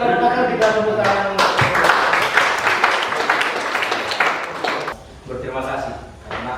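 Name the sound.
audience applauding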